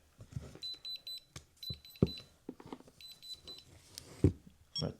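A power bank gives a series of short, high electronic beeps in irregular clusters, close by and fairly clear over low handling knocks and bumps.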